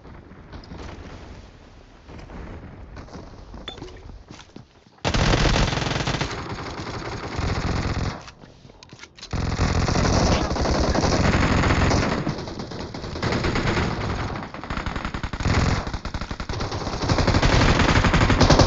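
Automatic gunfire rattles from a shooting video game, loud bursts in several long stretches with brief pauses and sudden jumps in level.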